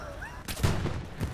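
A short burst of gunshots in the video game Hell Let Loose cracks out in quick succession, fairly close, after a faint moment of quiet.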